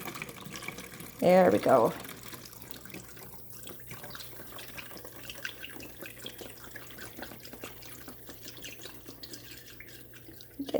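Water pours into a water bottle in a short, splashy burst lasting about a second, then only quiet room sound remains while a person speaks.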